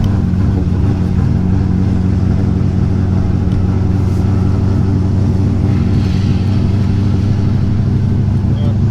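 A C5 Corvette engine, overheating, drones steadily at high revs in low gear, loud and close, with a constant low rumble throughout.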